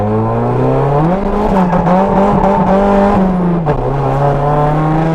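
Engine of an engine-swapped Mazda Miata roaring loudly close by while tires squeal in a sustained, wavering screech through a slide, pitch shifting as the car turns.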